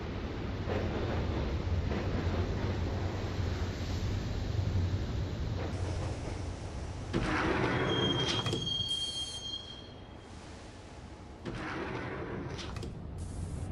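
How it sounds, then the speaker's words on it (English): Train ride in the video game Max Payne: a continuous loud rumble of rolling wheels and carriage, with sharp high wheel squeals rising over it midway and again near the end. "the train doors had already shut behind me, and I was in for the ride"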